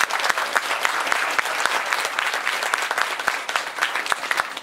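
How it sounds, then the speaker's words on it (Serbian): Audience at a Kufstein mosque community Hatme gathering breaking into steady applause, dense overlapping claps from many hands filling the room at a moderate distance, with no talking over it. "Hajde jedan aplauz."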